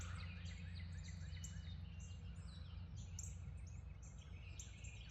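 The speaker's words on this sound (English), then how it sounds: "I love hearing all the birds waking up in the morning." Several birds chirp and trill in quick, overlapping bursts at an off-grid homestead in the morning, over a low, steady background hum, fairly faint and distant-sounding.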